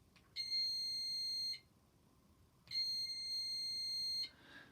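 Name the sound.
battery buzzer circuit sounding when paper clip bridges gap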